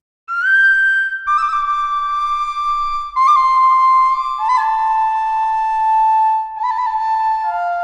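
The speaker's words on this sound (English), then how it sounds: "next we have the Native American Piccolo" A sampled Native American piccolo flute plays a slow descending melody of clear, breathy high notes, each sustained and sliding down in steps, solo and close with no other sound.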